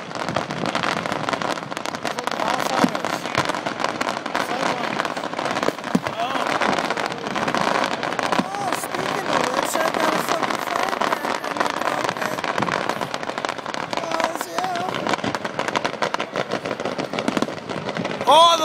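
Canada Day fireworks over Calgary crackle and pop in a dense, unbroken barrage that lasts throughout, heard from a distance at moderate volume, with voices faintly mixed in.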